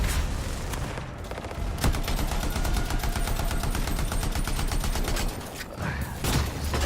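Rapid automatic gunfire from a gun in the video game Anthem: a dense, steady stream of close, loud shots runs almost without pause for several seconds, with brief gaps near the start and end.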